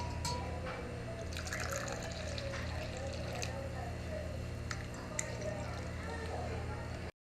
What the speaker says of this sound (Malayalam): ഇനി നമുക്ക് ഒരു ഗ്ലാസ്സിലോട്ട് ഒഴിക്കാം കേട്ടോ.